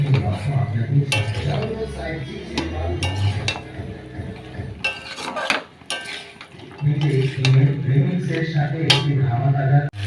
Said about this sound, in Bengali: আলুগুলো দিয়ে একটু নাড়তে থাকবো